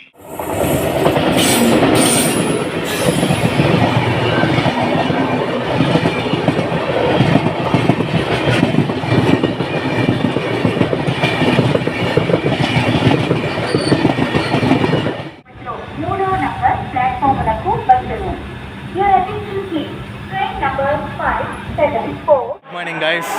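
An Indian weekly superfast express train, the Ekta Nagar to Chennai service, running on rails with a loud continuous rumble and rattle, then the sound suddenly drops to a quieter, muffled interior noise with faint voices for the last stretch.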